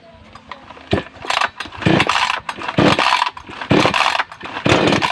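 A small two-stroke engine on a mini chainsaw is started with several pull cords. It gives uneven coughing bursts that catch into short loud revving runs, close by.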